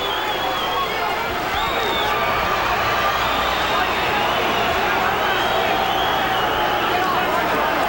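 A boxing arena crowd roars and cheers continuously and loudly as Johnny Tapia rallies against Danny Romero, with a commentator talking over the dense, sustained noise.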